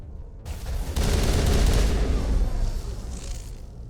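Loud, sustained bursts of gunfire at Geth enemies in a sci-fi video game, a dense rattling barrage with booming low end lasting several seconds.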